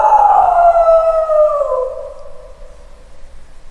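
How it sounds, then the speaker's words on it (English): Wolves howling in a forest, a long sustained howl sliding gradually downward in pitch, loud and fairly close, with further howling voices layered alongside before it fades. "he suddenly heard the howls of other wolves coming from"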